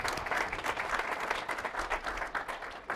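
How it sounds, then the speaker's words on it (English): Audience applause at a community charity event, a soft, steady patter of many hands clapping heard from a distance for the full three seconds. "Let's give another round of applause for Patty and Liz"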